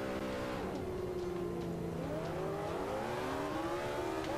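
Car accelerating on the Nordschleife in Forza Motorsport 5, engine revving up through the gears with rising pitch, a brief dip and shift around the middle before climbing again, loud and continuous with no talk.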